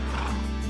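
A horse gives a short, close, steady whinny lasting under a second, with no voices over it.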